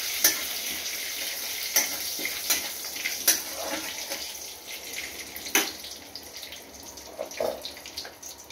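Black and white cumin seeds sizzling in hot mustard oil, giving a steady close hiss marked by several sharp crackles and pops at irregular intervals.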